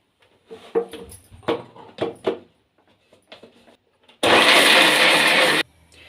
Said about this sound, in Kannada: ಎಲ್ಲನೂ ಒಟ್ಟಿಗೆ ಮಿಕ್ಸಿ ಜಾರ್ಗೆ ಹಾಕ್ಕೊಂಡಿದ್ದೀವಿ. ನೀರು ಹಾಕ್ದಂಗೆ ರುಬ್ಕೊಳ್ಳೋಣ.